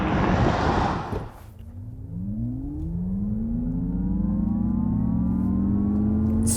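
A 2024 Acura ZDX Type S launching off a brake boost, its electric drive rising in a loud, steady whine that sweeps upward in pitch over several seconds after a brief burst of noise.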